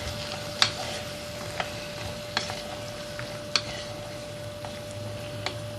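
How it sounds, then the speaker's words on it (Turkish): Fresh fava beans and tomato sautéing in a pan, with a low steady sizzle and a few sharp clicks of a spoon against the pan spaced through the stretch, no voices. "1 dakikaya yakın baklaları da kavuralım."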